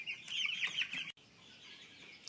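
Hens clucking close by in a backyard flock, a short burst of busy, overlapping calls that cuts out abruptly and leaves only a faint background hush.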